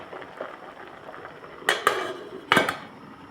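A lid clatters onto a metal pot of simmering pumpkin, with two sharp clanks followed by a louder metallic clink after a brief quiet stretch, over a faint background hiss.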